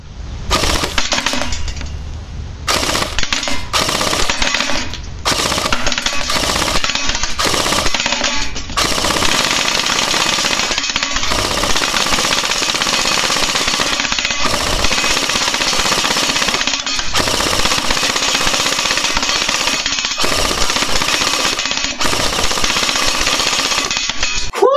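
An A&K M60VN airsoft machine gun running on an 11.1-volt LiPo battery fires during an outdoor range test, producing loud, rapid, sustained bursts separated by brief pauses.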